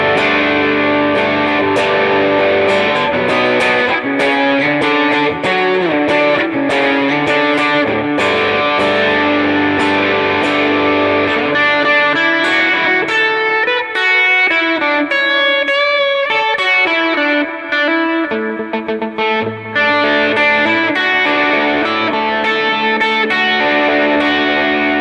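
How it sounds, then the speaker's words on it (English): An electric guitar runs through a Line 6 HX Stomp with the EP booster pushing the Tima overdrive, playing a continuous driven passage of chords and single-note lines, loud and close with no speech. "So what I have right now is the EP booster boosting the Tima overdrive, and this sounds like this."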